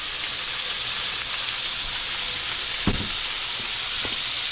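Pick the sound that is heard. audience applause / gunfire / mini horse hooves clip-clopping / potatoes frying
potatoes frying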